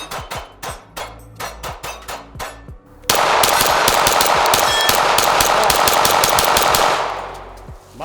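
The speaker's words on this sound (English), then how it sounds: "We're gonna shoot steel and then mag dump 1 to 2 mags" Pistol shots ring out at small steel plates, first as a string of evenly spaced single shots, then breaking into a fast continuous magazine dump of rapid, loud, close fire that lasts several seconds before stopping.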